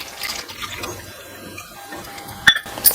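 Dissolved maida flour batter poured into water in a home kitchen, soft liquid splashing and trickling, fairly quiet, with a couple of sharper clinks near the end.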